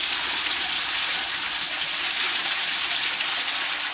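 Water from a Franklin solar water pump gushes steadily and loudly outdoors, a constant rushing splash with no pauses and no voices.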